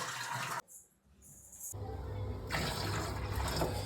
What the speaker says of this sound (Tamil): இதில் தான் தண்ணி ரீஃபில் பண்ண போகிறோம் நம்ம.